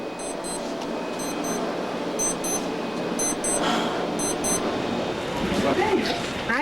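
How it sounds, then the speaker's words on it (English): An electronic alarm beeps in quick double pulses, repeating steadily for several seconds at moderate loudness amid a busy background where people are talking. "That's my alarm."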